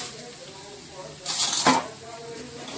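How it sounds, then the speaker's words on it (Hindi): Bhat soybeans and onion frying in a pan, a steady low sizzle that briefly swells into a louder hiss and scrape of stirring midway, then settles back, with a voice faintly present. "प्याज के साथ ही भट को मम्मी भून रही हैं।"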